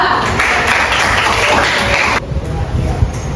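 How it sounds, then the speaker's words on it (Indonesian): Classroom applause for a student group after their presentation, a loud dense patter of many hands clapping close by that drops off partway through, leaving softer clapping and shuffling noise. "Tepuk tangan untuk kelompok 2."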